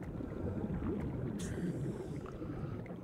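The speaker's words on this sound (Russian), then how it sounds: "Звуки, конечно, тоже под водой очень клево сделаны." Underwater ambience in Subnautica fills the space with a steady, muffled low rumble and watery swirl, soft and continuous, with a faint bubbling shimmer drifting through.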